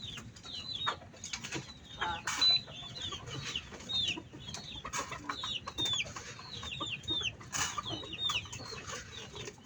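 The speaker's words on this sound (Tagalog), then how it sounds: "So ako muna ang magpakain sa kanyang mga manok." Backyard chickens being fed, a flock clucking and chirping in repeated short calls, fairly close and moderately quiet over a low rustling background.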